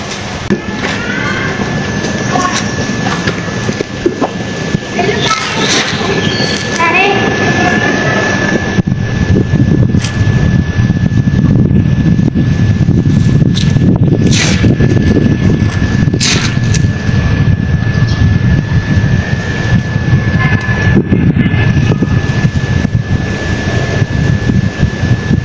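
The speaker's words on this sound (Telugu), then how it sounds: "గాలి అయితే తీసేస్తున్నా" Air hisses steadily out of a bike tyre as it is deflated, a continuous broad rushing noise with outdoor wind, growing louder and rougher in the second half.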